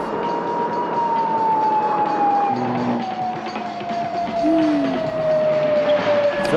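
A siren tone holds steady with a slowly falling pitch, heard amid road and traffic noise, moderately close.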